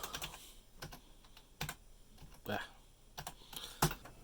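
Keys tapped on a computer keyboard while working in DOS on an IBM PC 340, coming as scattered individual clicks and short bursts at close range, moderately quiet with faint background noise.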